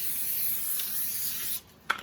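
Cooking spray hisses steadily onto a parchment-lined cooking sheet for about a second and a half, then cuts off, followed by a faint tap.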